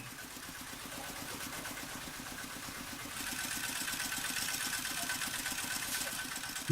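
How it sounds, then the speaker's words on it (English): A Thai-style tractor engine chugs in a rice field during harvest, a steady rhythmic mid-pitched idle that grows slightly louder partway through, heard at moderate distance with no talking. "And they're using those Thai style tractors to take the rice away."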